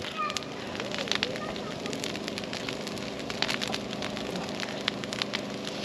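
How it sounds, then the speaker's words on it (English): A campfire at an off-grid family campsite crackles with scattered sharp pops and snaps over a steady low hiss, heard close, while people talk nearby. "And then we got a crackling fire going."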